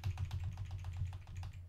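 Computer keyboard keys pressed in quick, steady succession, a run of close, light clicks under a low background hum, with no voices.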